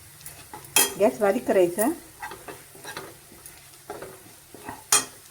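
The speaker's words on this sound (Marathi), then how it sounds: "1 चमचा मालवणी मसाला, तो पण परतून घ्यायचा." Clams are stirred with Malvani masala in a hot pan, giving a close sizzle with utensil scrapes and clinks against the metal while someone speaks briefly.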